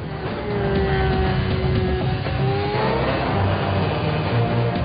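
Onboard simulator lap of a 2012 Formula 1 car at the Bahrain Grand Prix circuit: a steady, loud high-pitched engine whine with rising gear-by-gear revs and shifts, continuous throughout with no talking.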